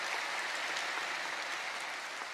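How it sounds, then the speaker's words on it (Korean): A church congregation at a Friday evening service gives warm, steady applause to the choir, an even wash of many hands clapping at moderate volume without speech. "귀한 찬양으로 은혜를 주시는 우리 겟세마네 찬양대에게 뜨거운 감사의 박수 한번 주시기 바랍니다."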